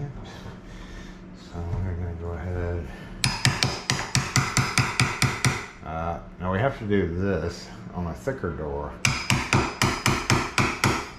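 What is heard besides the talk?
hammer and chisel on door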